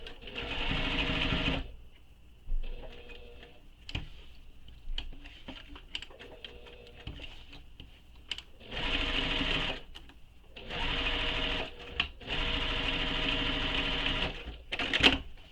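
A sewing machine back-stitches across a wallet's strap closure in several loud, rapid bursts of stitching separated by short pauses and quieter handling sounds.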